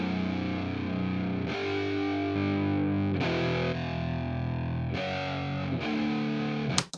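Distorted rock electric guitar doubled with one channel delayed by about a thousand samples for a wide, thick stereo image, chords changing every couple of seconds and ringing out alone before a sharp stop.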